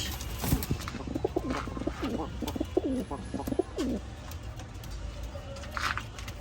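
A breeding pair of pigeons coos in soft, repeated throaty phrases at close range. A low murmur of background voice and faint ambient noise sits beneath the calls.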